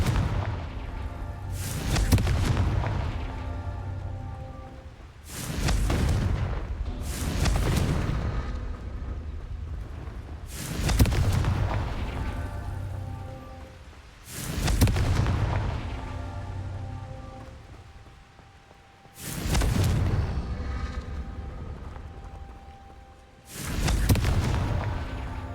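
Repeated fiery spell blasts going off in the wizarding video game Hogwarts Legacy, six loud booming bursts spaced a few seconds apart, each with a rumbling, crackling decay.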